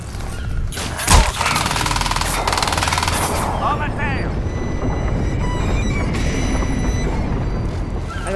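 Loud, sustained machine-gun fire in Crysis 2, a dense continuous rattle after an initial sharp bang, with a voice speaking briefly over the shooting.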